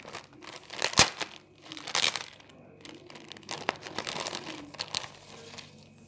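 A paper mail envelope is opened by hand, with close, irregular crinkling and tearing that comes in uneven bursts and sharp rips, and no voices over it.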